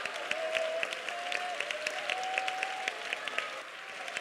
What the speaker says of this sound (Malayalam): കൈയടിച്ച് സ്വാതന്ത്ര്യം പറഞ്ഞാട്ടെ